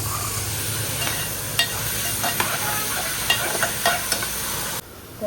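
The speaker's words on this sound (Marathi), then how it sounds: "मी आता मस्त छान पहिला कांदा मिरची थोडंसं ब्राऊन होईपर्यंत परतून घेते" Onion and green chilli sautéing in a pan outdoors for a papad vegetable dish, a steady close sizzle with a few sharp stirring scrapes, cutting off abruptly near the end.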